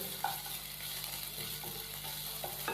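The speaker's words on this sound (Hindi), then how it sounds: "अदरक और लहसुन के पेस्ट को हमने 1 मिनट के लिए फ्राई कर लिया है" Ginger garlic paste fries in a pan with a soft, even sizzle close by, while a utensil scrapes and taps against the pan every so often.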